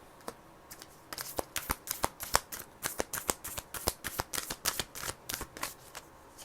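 Tarot cards are shuffled by hand in a fast run of crisp riffling snaps, dozens of sharp, close flicks in an uneven rhythm, with no voice over them.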